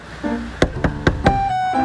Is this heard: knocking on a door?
yes